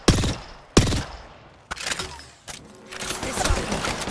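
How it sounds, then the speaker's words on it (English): Gunfire in the video game Apex Legends, with several sharp shots spaced apart followed by a denser burst of rapid fire, loud and close with no talk over it. "Shots. Being shot at."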